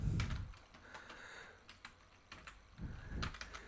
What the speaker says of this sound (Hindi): और मैं यहाँ पर टाइप कर ले रहा हूँ